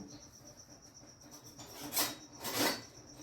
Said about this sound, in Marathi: हा लिंबू कापून घेतो मी